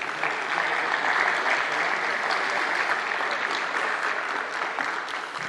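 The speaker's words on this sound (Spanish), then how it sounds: "al cual le brindamos un fuerte aplauso" Steady, dense applause from a large audience at a labor law congress, sustained throughout at an even, loud level.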